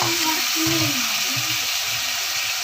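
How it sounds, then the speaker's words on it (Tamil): Vegetables for sambar sauté in a hot pan with a steady, loud sizzling hiss that runs the whole time, while a voice murmurs briefly underneath. "காயை நல்லா வதக்கிடலாம்"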